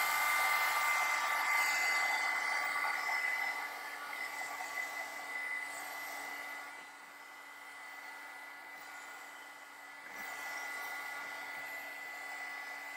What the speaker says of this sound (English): So I'm just gonna use my heat tool and dry it